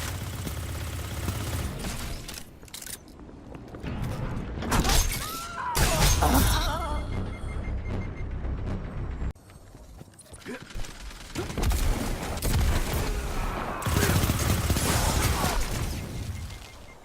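Bursts of SMG fire in a Destiny 2 Iron Banner Crucible match rattle out repeatedly at close range, with loud rapid volleys, impacts and clattering mechanical sounds between quieter pauses.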